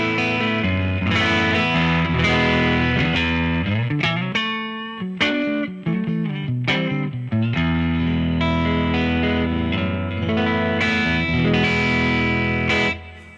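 An electric guitar played through a Line 6 US Dripman Nrm bass amp and cab with the drive turned up slightly. It gives a thick, driven tone of sustained chords and picked notes, with a few brief gaps, and no one talks over it.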